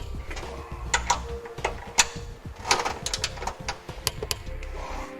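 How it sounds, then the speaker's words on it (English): Trailer hitch fasteners on a 2010 Mazda CX-9 are tightened with a steady patter of ratchet clicks and metallic taps, close and moderately loud. "Once we have our fasteners installed, we'll go ahead and tighten them down."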